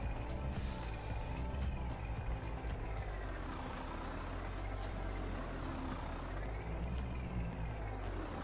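A lorry in Farming Simulator 22 rumbles with a continuous low engine drone, steady and fairly close, with faint mechanical creaks and a brief hiss layered over it as the truck jackknifes.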